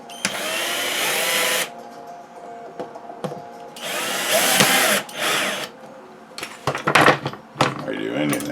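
A power drill drives self-tapping screws into a Graphic Whizard/Reiner machine during a rebuild, with two long loud whirring bursts followed by shorter intermittent spurts, close by.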